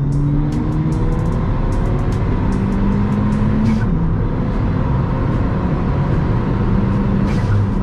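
A Ford Fiesta ST engine revs and accelerates hard, the pitch climbing through gear changes, loud and close, with some wind noise around it.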